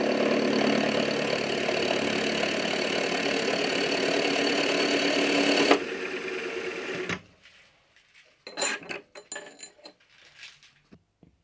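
Lathe cutting a chamfer on a newly made drawbar, a steady loud machining whir that changes tone midway and then cuts off, followed by a few scattered clinks and knocks.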